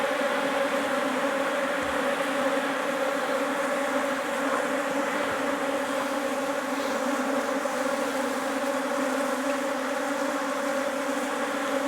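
Honeybees from a defensive colony in a top bar hive buzz loudly and continuously during an inspection, a dense steady drone of many wings close by with no talk.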